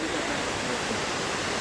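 A cloud forest waterfall roars, a constant dense rush of falling water that is loud and unbroken throughout the short stretch, with no voices over it.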